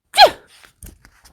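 A voice imitates a big sneeze for a children's bedtime story read aloud: one loud, close, sharp burst followed by faint breathy sniffs and small noises.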